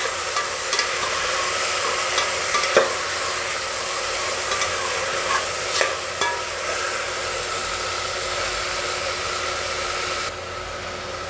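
Chopped tomatoes and onions sauté in a hot pan for tomato rice, giving a continuous bright sizzle with occasional stirring scrapes and no talk.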